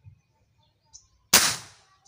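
A single sharp report from a Tauros A2k airgun fires once, loud and close, with a quick bright decay after a moment of near silence.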